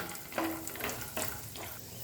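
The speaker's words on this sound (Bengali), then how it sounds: "এগুলোকেও মিশিয়ে নিয়ে হালকা করে ভাজা ভাজা করে নিচ্ছি" Steady, quiet sizzling of cashews and raisins frying in a pan, with a few soft stirring scrapes and clinks.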